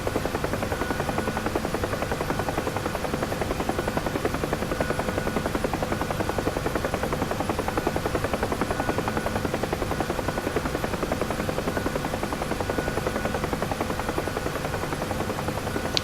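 A UH-1H Huey helicopter in flight in the DCS flight simulator, its steady rotor chop and turbine drone continuous and loud for the whole stretch, with no voices.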